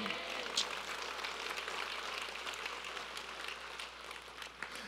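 Church congregation at a Sunday morning service clapping together, a dense, fairly soft patter of hands held steady for several seconds, with faint voices mixed in.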